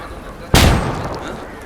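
A flashbang goes off in the Ghost Recon Wildlands video game: a single sharp, loud blast that bursts suddenly and trails off into a fading rumble over the next second.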